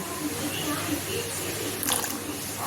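A small amount of water trickles into whisked batter for pumpkin and potato dumplings, a soft, continuous liquid wash close by, with a voice speaking over it.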